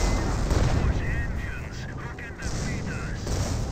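Calliope rocket artillery barrage in Company of Heroes 1, a continuous roar of rocket launches and rumbling impacts with whistling streaks, under a commentator's voice.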